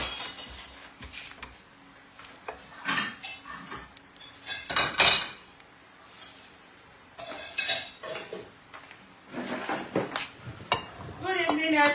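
Cabbage bread cooking in a pan while a utensil stirs and turns it, producing intermittent metallic clinks and scrapes against the pan, near and moderately loud, with someone talking in between.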